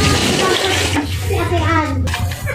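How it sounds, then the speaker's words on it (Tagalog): Water rushing into the tub of a repaired washing machine, a steady loud gushing pour with a low hum underneath, while a voice talks over it. "Lalagyan na po natin ng tubig."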